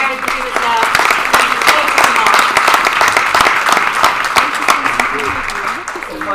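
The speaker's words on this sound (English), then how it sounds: "We'll give a round of applause" Audience applause after a panel session at a forum on fathers and men's caregiving, a steady wash of clapping sustained for several seconds, with some voices mixed in and a slight fade near the end.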